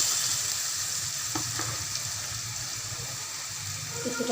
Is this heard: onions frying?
yes